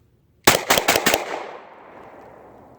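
A Glock 26 9mm pistol fires a rapid string of about five shots at a shooting range, loud and close, each crack ringing out into a fading echo.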